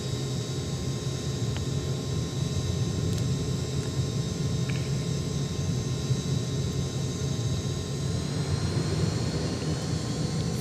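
A simulated fixed-wing charter aircraft's engines roar steadily under a constant broadband rumble and hiss during takeoff from runway 24 at Kaliningrad in X-Plane 12, loud and continuous with no voices.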